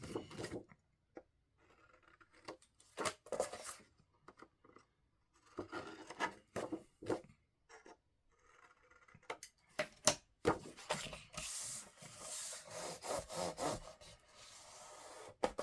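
Mitered paper corners on a scrapbook album are burnished with quiet, close rubbing strokes in uneven bursts that grow denser toward the end.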